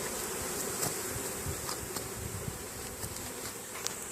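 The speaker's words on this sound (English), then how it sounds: "There's still bees on the box, but they will be going" A dense, steady buzz of many honeybees swarming close by around a hive box during swarm capture, constant and unbroken, with no voices.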